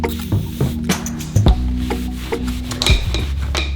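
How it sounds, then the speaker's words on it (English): Leather conditioner is rubbed by hand onto a barstool seat, close and steady, giving soft squishy swipes and a few sharper squeaks and knocks. "I'm gonna use my leather conditioner here and just clean this part up"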